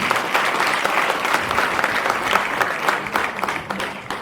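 Applause from an audience at a high school ribbon-cutting ceremony, loud, dense clapping that carries on steadily throughout.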